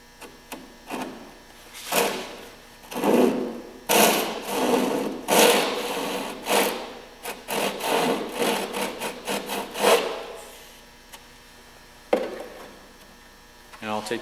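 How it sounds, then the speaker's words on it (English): Chisel shaving and scraping wood stripping at the stem of a Redfish kayak, a close series of short rasping strokes in irregular bursts with brief pauses, no talking. "I'll take the chisel and chisel some of this material off of here."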